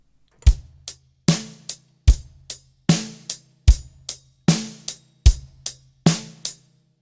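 A drum kit plays the steady groove of a rock song, with booming kick drum hits and sharp cymbal-tinged snare strikes alternating in an even, punchy rhythm, close and loud with no talking.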